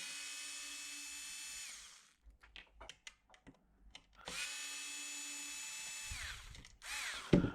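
An electric screwdriver whirs in two sustained close runs while backing screws out of a Dyson V10 cordless vacuum, separated by small clicks and handling taps.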